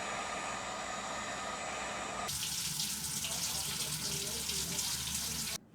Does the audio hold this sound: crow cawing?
no